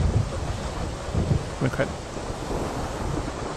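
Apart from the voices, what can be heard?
storm at sea sounds from sound machine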